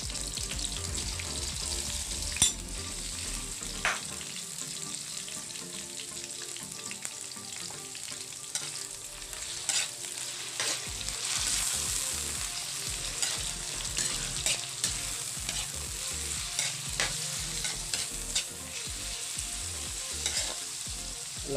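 Pork sizzles and fries in a pan for pancit canton guisado with squid balls, with steady crackling broken by repeated scrapes and stirring strokes of a utensil, close and alone without talk.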